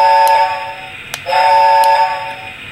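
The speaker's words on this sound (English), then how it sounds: "let's try the whistle" A Lionel LionChief Hogwarts Express model train's whistle sounds twice in quick succession, a steady steam-style tone cut by a short gap, close and fairly loud.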